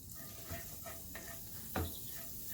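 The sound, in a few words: diced shallot sweating in a pan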